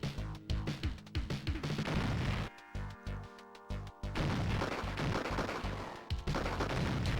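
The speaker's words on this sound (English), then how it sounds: "Might as well use some grenades up here." Grenade explosions in the 1993 James Bond 007: The Duel video game, a rapid string of sharp booms and crashes with a brief lull midway, loud and alone.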